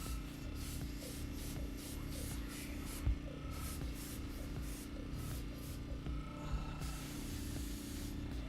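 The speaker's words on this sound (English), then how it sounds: "the overspray going onto the top might help with some things" Paint sprays onto a Pacific Northwest logging truck model in quiet, repeated short bursts of hiss, with faint handling noises between them.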